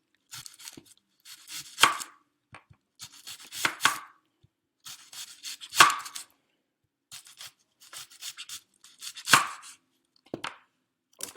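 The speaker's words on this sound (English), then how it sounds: "So we're gonna make our onion chops." A knife chopping an onion on a cutting board, bursts of quick rhythmic cuts separated by short pauses, each run ending in a firmer knock, close and clear without any talking.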